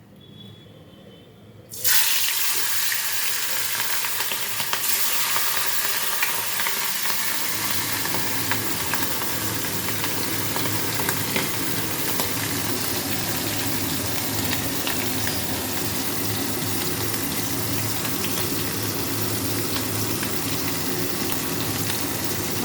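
Hilsa fish pieces rubbed with salt and turmeric slide into hot oil in a wok, setting off a loud, steady sizzle and crackle that starts abruptly after a quiet moment and keeps going, without any talking.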